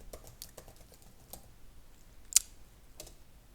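Light, irregular taps on a computer keyboard, a few scattered quiet keystrokes with one sharper click near the middle, close but faint, without speech.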